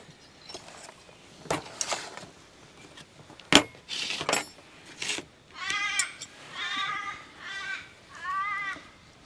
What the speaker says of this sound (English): The birds are bloody noisy.